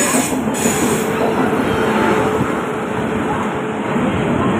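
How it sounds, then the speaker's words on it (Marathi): A train rolls in close by, wheels squealing and rumbling steadily, loud and continuous, with faint voices in the background. "तर आता आपली ही ट्रेन आलेली आहे"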